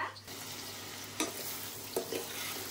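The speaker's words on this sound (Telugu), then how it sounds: "ఒక సైడ్ ఏమో ఇక్కడ వంకాయలు ఫ్రై అవుతున్నాయి ఆయిల్లో" Eggplants sizzle as they fry in oil in a home kitchen pan, a steady crackle with a couple of sharp clinks as the pieces are stirred.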